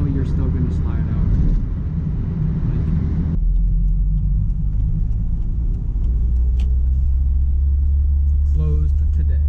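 A 1997 Mazda Miata drives through a snowstorm, its engine droning as a low, steady interior rumble that shifts in tone partway through, with a voice talking over it from inside the car.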